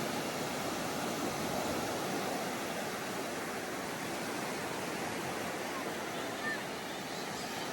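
Broad, constant roar of sea waves washing on the shore at Vijaydurg, Konkan coast, loud and steady throughout with no clear breaks.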